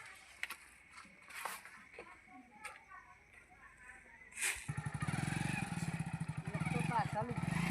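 A motorcycle starts up and rides off close by, its engine loud and steady with a rapid chugging pulse, after a stretch of people talking.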